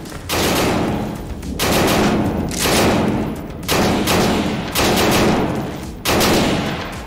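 Automatic gunfire in the VR shooter Tactical Assault VR, heard as six loud, close bursts of rapid shots, each about half a second to a second long, separated by short pauses.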